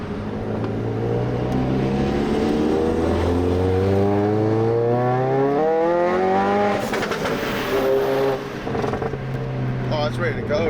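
A Ford Focus RS fitted with a PTE turbo accelerates hard in a sustained pull, engine pitch rising steadily through the gears with a brief shift dip, loud from inside the car while a voice talks over it.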